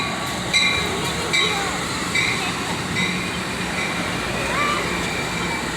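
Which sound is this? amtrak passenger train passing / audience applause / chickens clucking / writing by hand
amtrak passenger train passing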